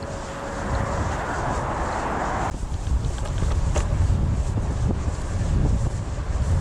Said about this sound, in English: Headwind is crazy.